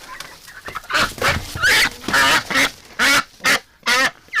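A large duck quacks loudly and close by in repeated harsh bursts, the calls coming faster and more insistent toward the end, with no voices over them.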